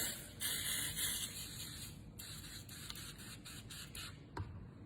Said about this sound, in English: I'm gonna spray the starch into the water here